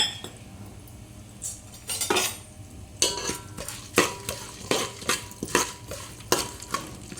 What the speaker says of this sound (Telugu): శనగపప్పు మినప్పప్పు ఫ్రై అవ్వాలి